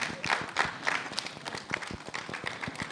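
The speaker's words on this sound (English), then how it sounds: "please come so that we can clap for you" Scattered clapping from a small crowd honoring Secretariat staff at a Ghana College of Pharmacists event, uneven and moderately close, with shuffling movement mixed in and no talk.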